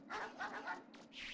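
A dog barks in the video game MegaMan Legends, giving a few quick rhythmic yaps followed by a short yelp, close and moderately loud.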